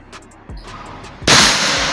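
A Predator V2 airsoft gun fires during an accuracy test, a sharp loud crack followed by a burst of broad noise, preceded by a few softer clicks and pops.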